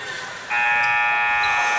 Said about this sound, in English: got the shot off at the buzzer, but it didn't go